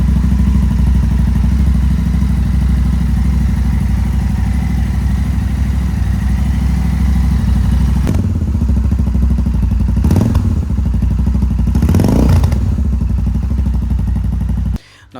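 Royal Enfield 650 twin motorcycle with an aftermarket exhaust, its engine holding a loud, steady low idle throughout with a few brief revs or thumps near the end before cutting off.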